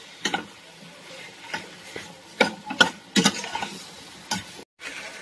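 Pork sisig stirred in a hot pan, scraping and clattering in irregular bursts over a soft sizzle of frying meat, close and moderately loud, no talk.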